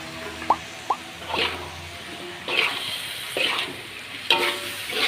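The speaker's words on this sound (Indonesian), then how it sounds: "Kita aduk biar rata" Fried tempe and tofu are stirred in a pan for a sweet soy stir-fry. Irregular scraping strokes and a few light taps sit over a faint, low sizzle, with no voices.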